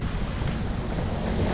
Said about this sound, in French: on a une mer balèze face à nous